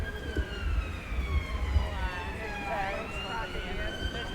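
An ambulance siren wails steadily through a street protest at Belfast City Hall, its sweeping tones fairly distinct above a busy crowd rumble with voices in the background.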